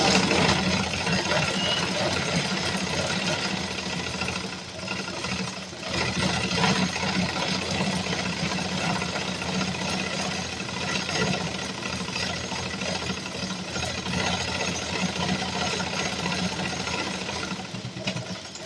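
A sewing machine runs steadily while stitching a skirt seam, a continuous mid-level mechanical whir with rapid rhythmic needle chatter lasting throughout, with no talking.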